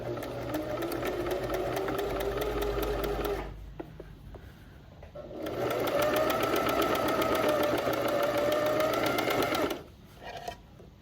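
Domestic sewing machine stitching knit fabric: a steady motor whir with rapid needle ticks runs for about three seconds, pauses, then runs again for several seconds before stopping, close and clear.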